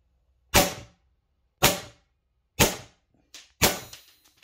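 Crosman DPMS SBR airgun converted with an electronic solenoid firing five sharp snapping shots at roughly one-second intervals, close and crisp with quiet gaps between them.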